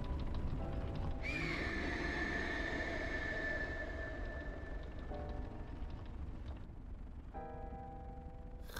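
A horse in the video game Breath of the Wild gives a clear, drawn-out neigh near the start, set against steady game ambience and music with light hoof-like sounds.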